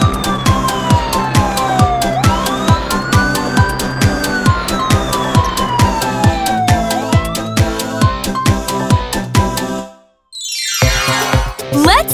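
A cartoon ambulance siren wails up and down loudly and close over a steady beating rhythm of music, cuts out briefly near the end, then a whooshing sound sweeps in. A voice speaks over part of it.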